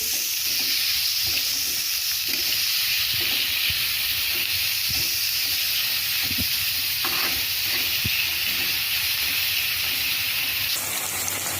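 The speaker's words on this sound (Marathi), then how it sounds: "आता आपल्याला हा कांदा मीडियम गॅसवर चांगला सोनेरी रंग येईपर्यंत परतून घ्यायचा आहे" Chopped onions sizzle and fry steadily in a pan over medium gas, a constant loud hiss with soft scraping stir strokes at irregular intervals close by.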